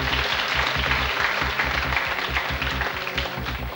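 A studio audience on a Russian TV quiz show claps in sustained, dense applause that stays loud throughout with no voices over it.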